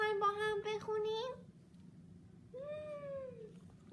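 Two clear cat meows, the first long and wavering, then a pause and a shorter drawn-out second meow, close and fairly quiet over low background noise.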